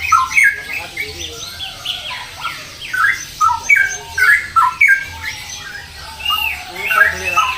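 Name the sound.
straw-headed bulbul (cucak rowo) singing in a bird shop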